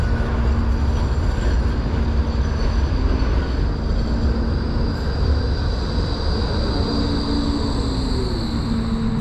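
An A-Class tram on route 96 in St Kilda rumbles past nearby, a steady rolling roar with a faint high whine held loud and continuous throughout.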